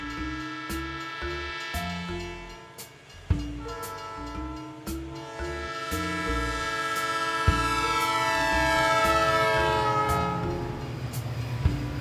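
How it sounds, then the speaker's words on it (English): A passing train sounds its horn in loud, sustained harmonic blasts over rumbling wheels and rhythmic clacks, swelling as it approaches and staying close and dominant. "Train."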